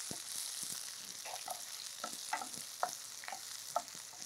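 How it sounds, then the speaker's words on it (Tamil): Shallots and garlic sautéed over low heat in a pan, a soft, quiet sizzle under regular spatula strokes that scrape and clack every half second or so. "இதை நல்லா வதக்குங்க."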